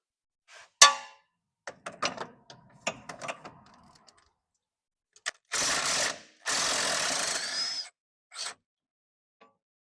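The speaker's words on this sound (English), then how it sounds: "So there's one more bolt we have to undo." A 17mm bolt being undone on a 1997 Eagle Talon's suspension: sharp metallic clinks and rapid ratchet clicks come in bursts, followed by longer loud grinding runs of a tool, close and otherwise quiet.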